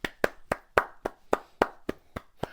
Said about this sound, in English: Golf clap for Howie Roseman